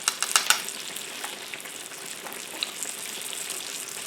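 Apple fritters frying in hot oil, a steady bright sizzle with a few sharp crackles and pops near the start, then an even, continuous hiss throughout.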